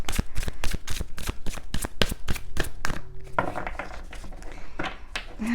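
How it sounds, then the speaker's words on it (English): Tarot cards are shuffled fast by hand, a rapid run of crisp riffling slaps that becomes a looser, softer shuffling in the last seconds. "Oops, I'm kind of shuffling too fast, I think."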